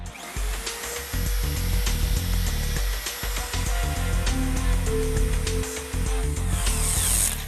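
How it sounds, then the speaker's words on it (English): A power drill with a paddle mixer whirs loudly in repeated bursts, stopping and restarting as it churns and mixes thick ceramic glaze in a bucket. "drill with our mixer and we're going to mix it up"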